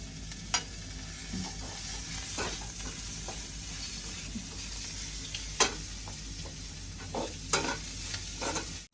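Beans and vegetables are stir-fried in a pan, with a soft, steady sizzle broken by sharp clicks and scrapes of a spoon against the pan at irregular intervals and no voices.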